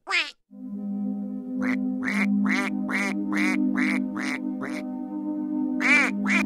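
A mute swan gives a rapid series of about ten nasal, honking calls, close and fairly loud, in an uneven rhythm over a steady low hum.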